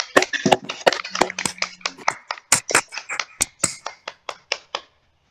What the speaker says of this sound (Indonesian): mari kita berikan tepuk tangan pada kelompok 1